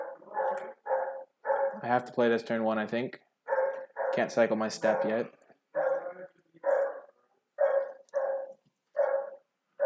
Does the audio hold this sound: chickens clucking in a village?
no